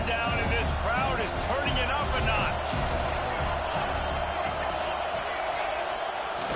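A Penn State college football stadium crowd roars during a game, a broad, constant wash of noise with a play-by-play voice talking over it early on.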